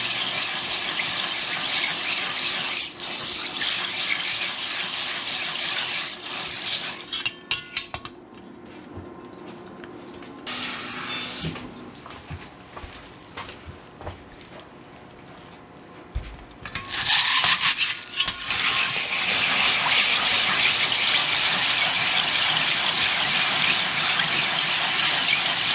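Adzuki beans being washed by hand in a bowl of water, with steady swishing and rubbing, squeaky friction, sloshing and a stretch of running or pouring water, close up with no talk.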